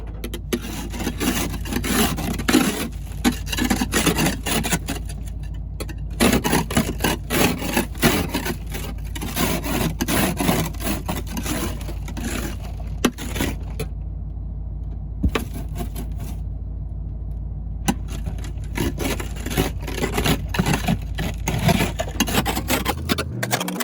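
Snow being cleared from a camper van window without a scraper in winter, a steady rough scraping and rubbing that runs throughout with brief pauses, close and fairly loud, with no talking.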